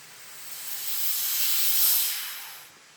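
Air hisses steadily into a vacuum food-storage container as its small lid valve is lifted, a soft, close, breathy rush that swells and then fades.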